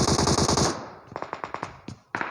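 Rapid automatic gunfire in PUBG Mobile opens with a loud, dense burst, then a string of sharp, evenly spaced shots follows, pausing briefly before another close shot.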